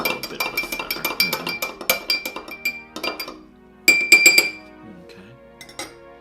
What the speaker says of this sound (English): I'll give it a stir. Just a little bit of a stir.